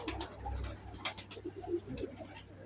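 Soft cooing from a blue pigeon with grey eyes and a dusky tail, faint and intermittent over steady low hum and brief clicks.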